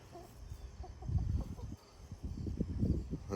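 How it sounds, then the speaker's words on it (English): Soft clucking from chickens nearby, mixed with low rustling and scratching in a quiet outdoor setting. "Chickens came over to inspect."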